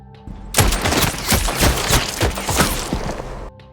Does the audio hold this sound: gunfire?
yes